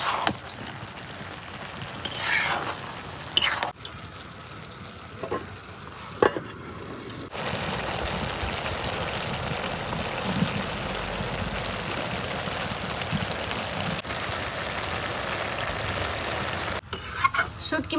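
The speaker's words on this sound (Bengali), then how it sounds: "শুটকি মাছ দিয়ে কদিনা ভাইজা নিলাম" Dried fish and gourd stirred and frying in a pan over a village clay stove, with steady scraping and sizzling textures, sharper stirring scrapes early on, then a continuous dense fry to the end.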